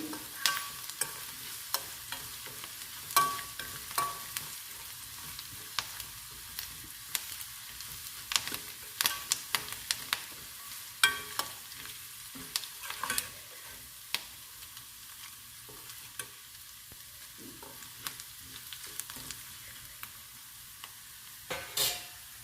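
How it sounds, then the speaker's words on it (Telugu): Garlic and curry leaves fry in oil for a tempering, a faint, fairly distant crackle with scattered pops and spits over a long stretch. "వెల్లుల్లి, కరివేపాకుని ఫ్రై చేసుకోవాలి"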